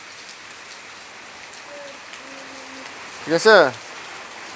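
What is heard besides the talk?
heavy rain falling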